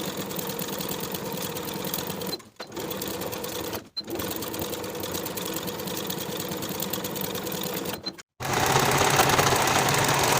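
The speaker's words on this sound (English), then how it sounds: "Sew that sleeve seam with a 1/2 inch seam allowance" A sewing machine runs steadily while stitching the sleeve seam of a pintuck poet blouse, a dense close whir that stops briefly twice and ends with a short pause before a slightly louder burst.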